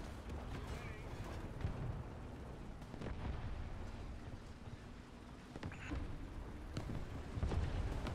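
Heavy gunfire from a Panzer III tank in a video game, a series of deep booming shots and rumbling blasts over a dense battle din, with voices talking over it.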